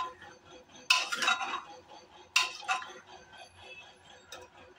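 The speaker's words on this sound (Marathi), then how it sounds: "ते पण एकदा व्यवस्थित परतून घ्यायचं आहे ह्याच्यात।" Ginger and beetroot stirred in a pan for tomato soup, with two sharp bursts of a spoon scraping and clinking against the metal, then quieter tapping and low cooking noise in between.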